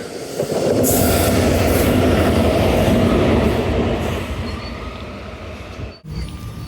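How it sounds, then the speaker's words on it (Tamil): A loud railway locomotive rumbles past close by, a steady heavy roar with rattling wheels that fades slightly toward the end. "ட்ரெயின் வரும்னு பார்த்தா இன்ஜின் வருதுங்க."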